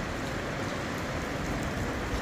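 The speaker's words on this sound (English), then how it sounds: "Oh, it's raining, did you see that?" Rain falling outdoors near the Westgate Centre in Oxford, a steady dense hiss of drops hitting surfaces, even and continuous with no voices.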